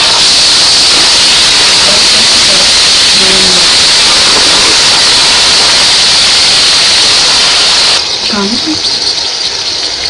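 Chopped tomatoes sizzle hard in a hot pan of fish biryani masala, a loud, steady broadband hiss that runs unbroken for about eight seconds before dropping away sharply near the end.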